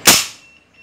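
A suppressed, regulated PCP Urko III air rifle fires one close, sharp crack that decays quickly into quiet room noise.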